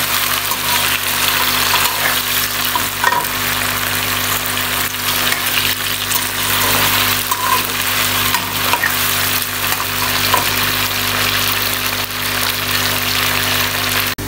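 Pieces of taro (arbi) fry in hot oil with a steady, dense sizzle and crackle, continuous and close throughout with no talking.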